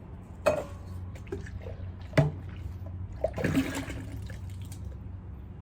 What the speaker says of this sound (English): Just give them a good rinse.